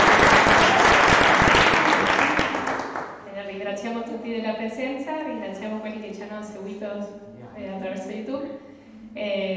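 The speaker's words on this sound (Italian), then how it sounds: "Un applauso alla nostra direttrice, Suor Maria Donzella." Audience applause at a Christmas concert in a contemplative formation house rings out loudly for about three seconds, then fades as voices take over.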